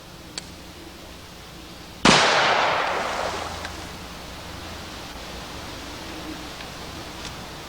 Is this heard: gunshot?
yes